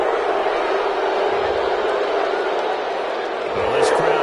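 Virtual stadium crowd in a PS4 American football video game reacting to a penalty call, a steady loud roar of boos and shouts that swells near the end, with commentary over it.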